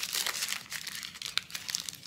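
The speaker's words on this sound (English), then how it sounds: "I'm gonna crumple it up" Ripped paper is crumpled in the hands to give it a rough, bark-like texture, a continuous close crackling and crinkling with a few sharper crunches.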